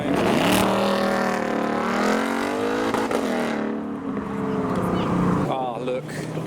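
Ford Mustang driving past on a road leaving a car show, a loud engine drone that rises and falls as it accelerates by, followed by a second engine revving up, with a voice speaking briefly over it.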